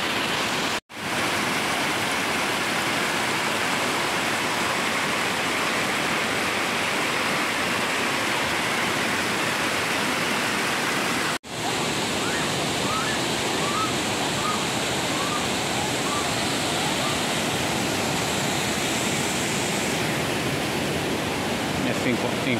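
Rushing water from a stream or cascade in a wooded park area near Uruapan, Mexico, pours as a loud, steady, close wash that runs unbroken throughout, with a few faint chirps in the background.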